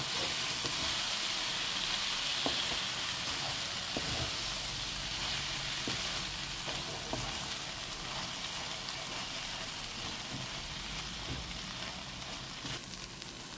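Moringa leaves frying with boiled moong dal being stirred in a pan, a steady close sizzle and hiss running throughout with occasional soft scraping knocks of the stirring spoon.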